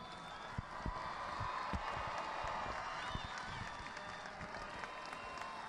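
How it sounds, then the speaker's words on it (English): Crowd applause in a large football stadium at a high school state championship, a broad, distant wash of clapping and cheering with a few sharper nearby claps. "Let's give these two fine football teams a tremendous round of applause."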